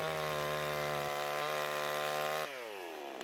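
A cheap 18-inch gas chainsaw with its chain fitted backwards runs at a loud, steady high idle, then its pitch drops abruptly as the throttle eases, with no speech.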